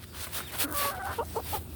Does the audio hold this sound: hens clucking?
yes